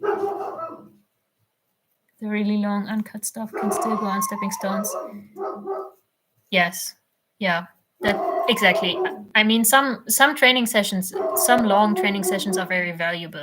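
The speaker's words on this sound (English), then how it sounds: "I'm sorry about the dog barking." A dog barks and yips in the background of a home call recording while two people keep talking over it, the barking mostly buried under their conversation.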